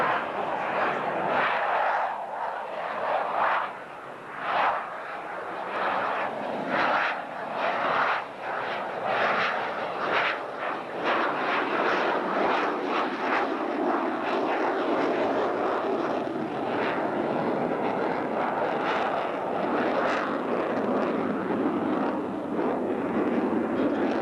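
Air Force Thunderbirds jets fly in an air show display, a loud, broad jet roar that fills the whole stretch, swelling and easing slightly as the aircraft maneuver.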